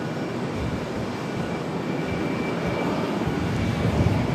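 A McDonnell Douglas MD-80 'Mad Dog' jet departs from a busy airline hub, its engines a steady, loud broadband roar that swells slightly toward the end, with no talk over it.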